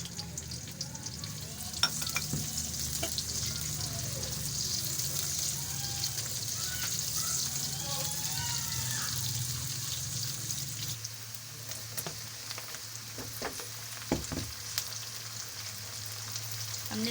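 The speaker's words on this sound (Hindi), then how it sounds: "तो सबसे पहले हम ऑयल में प्याज ऐड कर देते हैं।" Onions fry in hot oil for a Parda biryani, giving a steady, even sizzle and crackle that lasts throughout, with occasional clinks of stirring up close.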